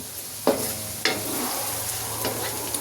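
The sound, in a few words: coriander leaves with stems frying in a pan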